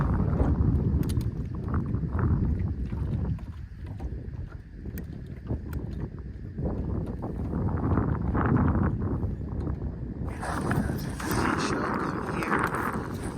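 Wind gusting across a lake while crappie fishing from a small boat, a steady, loud, buffeting rumble that swells and eases for the whole stretch.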